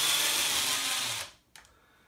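A power driver whirs steadily for over a second while backing out front bumper screws on an ECX Ruckus 2WD 1/10 RC monster truck, then stops, followed by a brief close click of handling.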